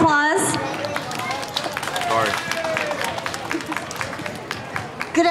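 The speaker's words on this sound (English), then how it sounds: "Can we please give her a round of applause?" A crowd applauds a guest speaker from the San Francisco Board of Education at a 2017 Tết Trung Thu festival gathering in San Francisco, a steady patter of many hands clapping, mixed with murmuring voices.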